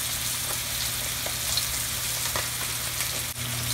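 Spanish mackerel sizzles steadily in hot peanut oil in a fry pan, a close, continuous crackling hiss with a faint low hum beneath.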